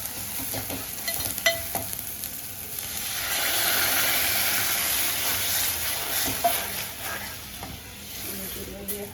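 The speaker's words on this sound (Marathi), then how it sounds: "एकजीव डाळ करून घ्यायची अशी घोटून" Cooked dal mashed and whisked in a pot with turmeric, close scraping and stirring strokes over a bubbling sizzle that swells into a steady hiss midway, with a voice faintly present.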